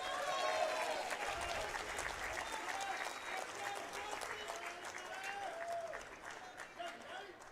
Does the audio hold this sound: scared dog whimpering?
no